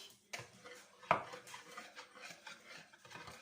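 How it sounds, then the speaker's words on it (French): Whisk stirring a liquid mixture in a bowl, a steady run of soft scraping and light clinking strokes with one sharper knock partway through, close and fairly quiet. "Et on touille, on touille, on touille, on touille."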